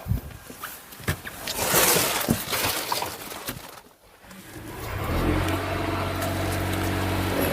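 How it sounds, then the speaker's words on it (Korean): A Mercedes GLC300 Coupe engine starts with a burst of cranking and fires up after a brief gap, then settles into a smooth, steady idle hum heard up close. "시동 소리도 들려드리겠습니다"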